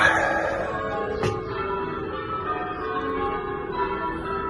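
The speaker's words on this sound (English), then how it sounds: "I've listened to about 45 minutes of church bells" Church bells ring steadily, their sustained tones overlapping and lingering, with one sharp strike standing out near the start.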